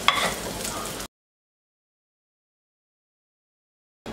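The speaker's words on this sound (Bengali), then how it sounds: "এবারে নেড়ে চেড়ে সুন্দর করে কাঁকরোলগুলোকে ভেজে নেব" Kakrol (pointed gourd) frying in hot oil for a Bengali kakrol kalia: a close, steady sizzle lasting about a second, then silence, with a brief return of sizzling at the very end.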